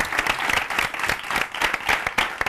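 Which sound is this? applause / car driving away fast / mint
applause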